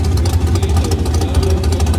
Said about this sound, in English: we're about to crank it, make sure our oil pressure is good and stable